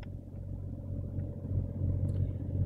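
A Jeep Cherokee engine idles steadily after a cold start, a continuous low rumble with a faint harmonic hum that swells slightly louder toward the end, with no voices.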